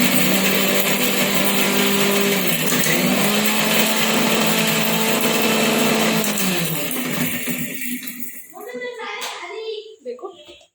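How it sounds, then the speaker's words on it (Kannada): A mixer grinder whirs loudly and steadily for several seconds as it crushes washed green chillies, then stops, and rattling and handling noises follow. "ಬಟ್ ಹಸಿಮೆಣಸಿನ್ಕಾಯಿ ಇವಾಗ ತೊಳ್ಕೊಂಡೆ, ಈಗ ಮಿಕ್ಸರ್ ಮಾಡ್ಕೋತೀನಿ ನೋಡ್ಕೊಳ್ಳಿ"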